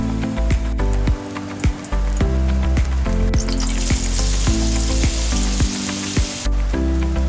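Sausages fry in oil in a pan with a steady hissing sizzle that grows stronger partway through, partly masked by rhythmic background music.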